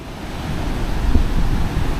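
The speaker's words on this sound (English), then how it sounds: "This is the beach of Vung Tau." Surf washing onto the narrow beach at Vung Tau, a steady low rumble of breaking waves with wind buffeting the microphone, continuous and fairly loud with no voices.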